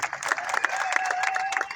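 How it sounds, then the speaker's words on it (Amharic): Warm applause from an audience at a gathering: a short, steady patter of many hands clapping at moderate volume, with some faint tonal sound mixed in. "ስለዚህ መልቲ ሲስተም አንድ ጊዜ ሞቅ ያለ ጭብጨባ"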